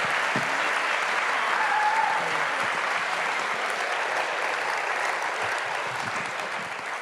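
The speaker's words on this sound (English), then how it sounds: "Another round of applause." An audience at a summit gives a dense, sustained round of applause that fills the space evenly and fades slightly toward the end.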